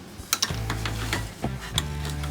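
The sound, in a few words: socket wrench tightening ATV spark plug, Yamaha Raptor 660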